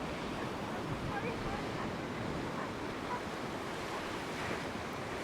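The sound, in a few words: ocean waves crashing against rocks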